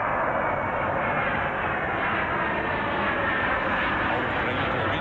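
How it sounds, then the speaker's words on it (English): An airplane passes overhead as a loud, continuous broadband roar that holds steady throughout, with no clear fade in or out. "that sounds like a plane"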